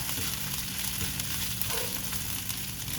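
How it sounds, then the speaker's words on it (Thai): Pork belly stir-fries in pounded curry paste for a northern Thai cabbage curry, giving a loud, dense, continuous sizzle close up with no voices. "แล้วเอาหมูมาผัด"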